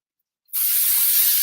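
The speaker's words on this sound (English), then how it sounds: "Pop some spray glue onto the back." Spray glue hisses steadily from an aerosol can inside a small spray box, starting abruptly and continuing as a loud, bright, unbroken spray.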